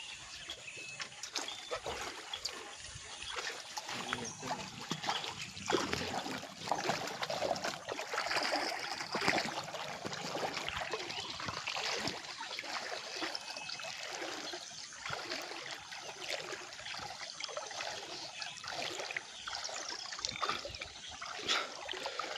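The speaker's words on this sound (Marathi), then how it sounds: "तर या पाण्यातून आम्ही आता जाणार आहे" Barefoot people wade through a shallow Konkan tidal river on the way to set crab traps, feet sloshing and splashing in a steady, faint rhythm against trickling water, with occasional birds in the background.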